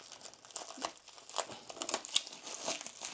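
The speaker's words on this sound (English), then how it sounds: "Take the blade. Cut that tape off." A blade slicing tape off a trading card supply package gives close, irregular crinkling and crackling bursts of plastic and cardboard over about three seconds, with no voices.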